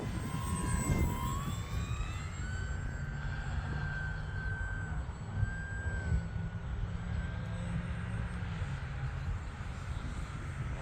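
An E-flite Pitts 850mm RC biplane on a 4S battery flies past, its electric motor whining steadily with a pitch that glides and shifts as it banks, moderately loud over a low breezy rumble.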